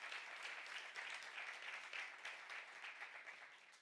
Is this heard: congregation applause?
yes